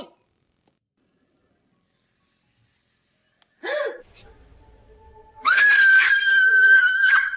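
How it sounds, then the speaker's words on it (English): Near silence at first, then a sharp gasp, then a loud, sustained high-pitched scream from a person who has seen a giant spider in the bathroom, very close and piercing. "Why are you yelling like a little girl?"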